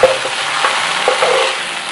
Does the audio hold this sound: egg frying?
yes